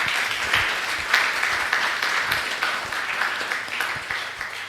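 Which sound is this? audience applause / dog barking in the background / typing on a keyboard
audience applause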